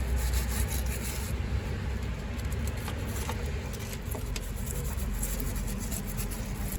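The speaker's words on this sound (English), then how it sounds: "Clean off any of that rust there." Rust and dirt are scrubbed off a coil spring under a rusty VW Sharan 7M0, making a continuous rough rubbing and scraping. The noise is close and steady, with faint ticks scattered through it.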